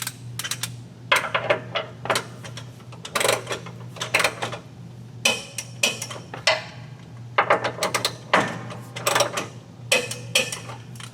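A ratchet with a 3/4 inch socket tightens a hex bolt on a Dodge Ram Cummins bypass filter mount, giving repeated bursts of quick clicking pawl strokes in an irregular rhythm, close and clear over a low steady hum.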